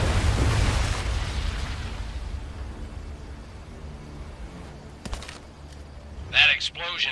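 A loud explosion from the Medal of Honor: Above and Beyond VR game opens with a heavy boom and rumble that decays over a few seconds, followed by quieter ambience and a couple of brief sharp bursts near the end.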